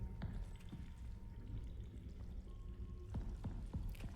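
Footsteps splashing through shallow water in a video game, soft wet sloshes repeating steadily with a few sharper drips and splats near the end, fairly quiet and continuous with no talking.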